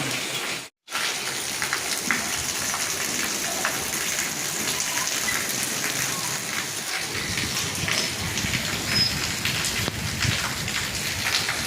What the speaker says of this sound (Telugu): చూపిస్తా చూడండి ఎంత వర్షం పడుతుందో